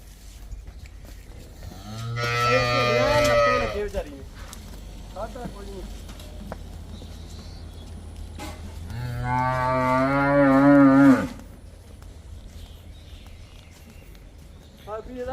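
A cow on a Punjabi dairy farm, sold as a 15–16 litre milker, lets out two long, loud, close moos several seconds apart, with quieter farmyard noise and occasional talk between.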